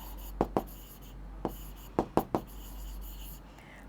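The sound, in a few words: writing numbers by hand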